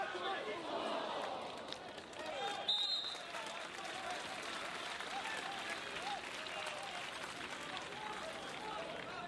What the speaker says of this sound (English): There's a round of applause for Marquinhos.